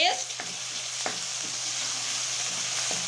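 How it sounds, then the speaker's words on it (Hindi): Garlic ginger paste hitting hot oil in a pan for a Punjabi pea and chicken dish, a loud, continuous close hiss and sizzle with a few faint utensil taps. "ये लहसुन अदरक का पेस्ट डाल दिया।"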